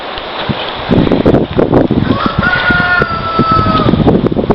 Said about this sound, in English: There's my other rooster that I have in with the hens.